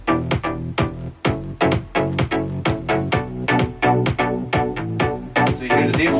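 Layered synthesizer chords with a deep bass line underneath are punched by a kick drum in a steady rhythmic pulse, each hit followed by a swelling, pumping chord, loud and without voices.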